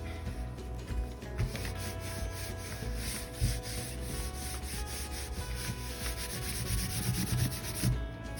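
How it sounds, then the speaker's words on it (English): Steady rubbing and scraping of a tool against a junk/art journal cover, a continuous abrasive rasp with small irregular bumps, close and moderately loud, no talking. "Scrape it down, try to get a good connection here."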